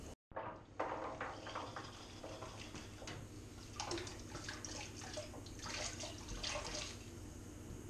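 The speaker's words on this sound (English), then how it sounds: "don't just empty the bottle, actually rinse it out." Water sloshes and splashes steadily inside a wine bottle as it is rinsed out during homemade wine bottling, a continuous wet rushing with a few clinks, close and fairly loud, no talk.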